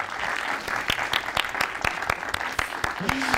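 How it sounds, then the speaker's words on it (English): Audience applause at a museum ceremony, a dense patter of clapping with sharp individual claps standing out, close and lively, with a brief voice near the end. "you may clap your hands"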